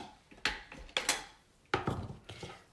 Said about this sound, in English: we're gonna go ahead and trim this.